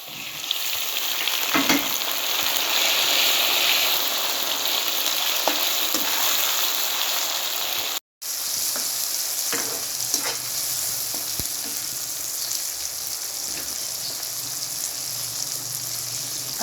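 Five large tomatoes frying in a pan for sobat produce a loud, continuous hissing sizzle with occasional stirring scrapes, a brief cut near the middle, then the sizzle carries on unbroken.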